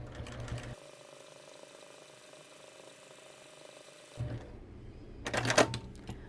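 A sewing machine stitches a quilted pot holder in one steady, close motor whir lasting about three seconds. Louder handling clatter and rustling come before and after it.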